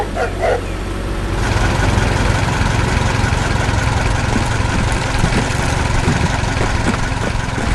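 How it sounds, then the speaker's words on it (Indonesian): A red animated tractor with a digger attachment rumbles steadily, its loud engine running continuously while it works. "lihat traktor merah itu, dia sedang sibuk bekerja dengan alat penggali di belakangnya."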